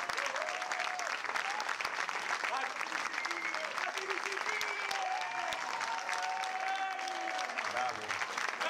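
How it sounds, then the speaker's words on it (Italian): A large audience applauds steadily and at length at a live cultural event in Italy, the dense clapping carrying on for the whole stretch with faint voices and whistling tones threaded through it. "Un grandissimo applauso al Ben Gruppo Trasgressione."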